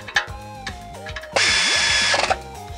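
A pneumatic impact wrench tightens a rear brake bolt on an Audi Q5, with a loud, close rattling burst lasting about a second, preceded by short whirring blips and brief shop noises.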